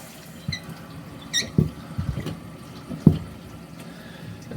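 Water rushing into a toilet tank after the supply is turned back on, a low gurgling fill with irregular splashes and knocks, close and moderately loud.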